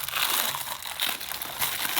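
Plastic bag of a delivered book package crinkling and crumpling close up, a busy rustling texture in irregular bursts, loud and alone without talk.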